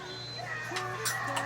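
Chickens at a house cluck faintly in short, scattered calls over a low background hum, with some talk nearby.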